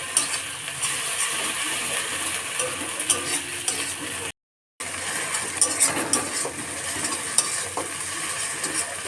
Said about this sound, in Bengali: দিয়ে ভালো করে নাড়তে থাকবো যতক্ষণ না এর কাঁচা গন্ধটা যায়